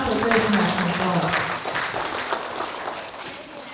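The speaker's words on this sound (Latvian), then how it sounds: "Aplausi Artim Romanovskim." An audience at a youth contest for young men applauds a contestant as he is called forward. The clapping is a dense, moderately loud patter, with a voice speaking over it at the start.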